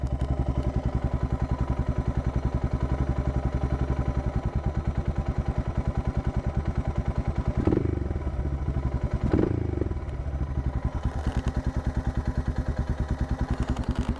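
A Suzuki DR650 motorcycle with modified carburetor idles steadily close by, its low, even thumping broken by two short revs partway through.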